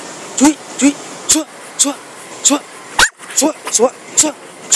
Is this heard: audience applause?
no